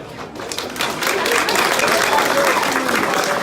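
Crowd applause at a community gathering, a dense sustained patter of many hands clapping that builds after a quiet start and holds steady, with some voices mixed in.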